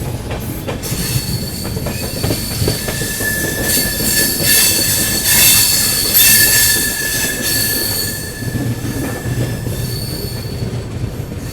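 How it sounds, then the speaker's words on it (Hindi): The 12141 Patliputra Superfast Express runs through a station near Katni without stopping, heard from inside a 2AC coach. Loud, continuous wheel squeal and steady rail rumble rise and fall over the whole stretch, with no talking. "अपनी पाटलिपुत्र सुपरफास्ट एक्सप्रेस स्किप करने वाली है कटनी जंक्शन को"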